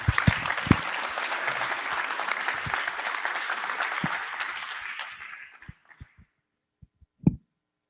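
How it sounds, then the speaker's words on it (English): An audience at a Toronto event claps in a sustained burst of applause that fades out after about five seconds, followed by a few scattered late claps and one final sharp clap. "can we get a round of applause?"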